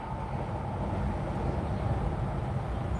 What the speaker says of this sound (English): I hear a big humming like a diesel.